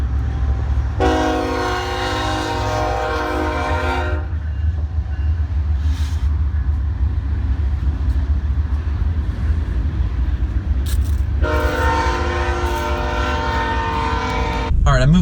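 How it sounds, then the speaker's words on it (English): A train passes with a heavy, continuous rumble, sounding two long, loud horn blasts, one near the start and one near the end, over steady rolling noise and traffic. "Oh, here comes the train."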